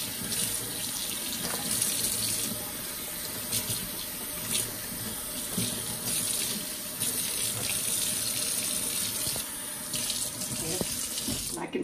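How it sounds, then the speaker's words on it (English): Tap water runs steadily over salmon being rinsed of its salt in a kitchen sink, a continuous close splashing stream with small shifts as the fish moves under it. "Give it a good rinse. You want to get all that salt off before you cook it."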